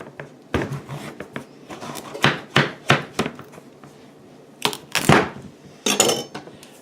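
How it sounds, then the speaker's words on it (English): A knife is driven through a butternut squash on a cutting board, giving a series of sharp, close chopping knocks and thuds in irregular bursts, with scraping between them and no speech. "just drive your knife through it"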